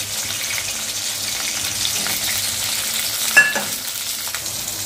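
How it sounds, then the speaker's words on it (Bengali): Capsicum pieces lightly frying in a pan, a steady close sizzle with stirring scrapes throughout and a brief utensil clink near the end, no voices. "ক্যাপসিকামগুলো হালকা করে ভেজে নেব।"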